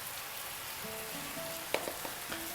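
Curry mixture made with mild supermarket curry powder sizzles softly in a frying pan, a faint steady crackle with a few sharp clicks and taps of a spoon or pan toward the end.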